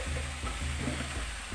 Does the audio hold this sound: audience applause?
no